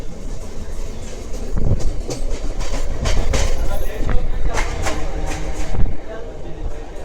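A MEMU passenger train, no. 67285 from Rajahmundry to Visakhapatnam, rumbles along steadily, with rhythmic clacking of wheels over rail joints and a loud, constant roar of the carriages.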